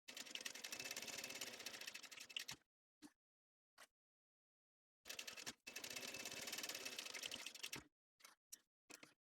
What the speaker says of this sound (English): now I want to sew 1/8 of an inch going this way